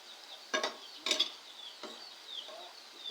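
Banana chips frying in oil while being stirred, a steady soft sizzle broken by several sharp scraping clinks of the utensil in the pan.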